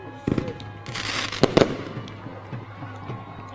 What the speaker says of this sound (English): We got fireworks at the motherfucking revolution.